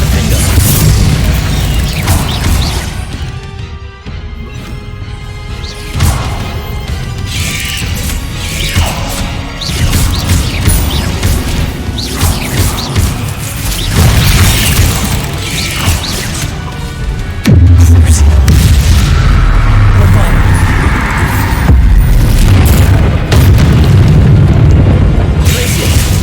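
Loud, repeated booming blasts from Bombarda spells in the Hogwarts Legacy video game, crashing one after another amid dense combat effects and a shouted spell cast, nearly continuous with heavier impacts toward the end.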